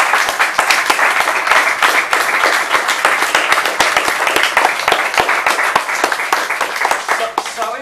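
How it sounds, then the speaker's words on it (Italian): An audience claps at the presentation of a volleyball player to a Serie A1 women's volleyball club in Casalmaggiore. The applause is loud and crisp, with sharp individual claps that carry on steadily for several seconds. "Già qua partiamo con un applauso."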